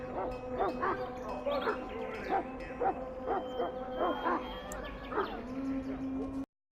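A Mabari hound in the video game Dragon Age: Origins barks in a rapid run of about a dozen loud, close barks and yips over several seconds, cut off abruptly at the end.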